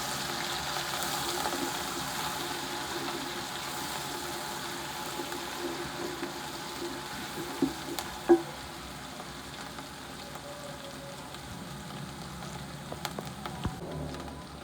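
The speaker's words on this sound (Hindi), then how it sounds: "2 चम्मच कुटी हुई अदरक, हल्का हल्का सा फ्राई कर लेते हैं" Crushed ginger frying lightly in a pan for a winter mixed vegetable sabzi, a faint, steady low sizzle with a few soft clicks and scrapes of a spoon scattered through, no talking.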